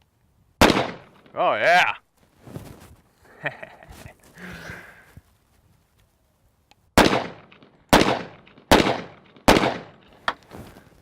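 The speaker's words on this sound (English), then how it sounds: "shot all 10, 2 at a time, no problem." Double-barrel pistol firing 230-grain bullets two at a time, with loud sharp reports that start with a single blast and are followed by a quick run of four shots near the end. Brief talk and handling noise fill the gap between them.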